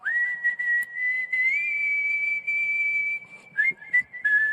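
A person whistles clearly, holding one long steady note, then breaking into a few shorter notes, alone and nearby.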